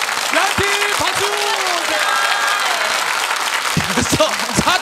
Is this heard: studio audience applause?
yes